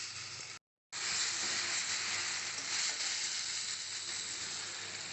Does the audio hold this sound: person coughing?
no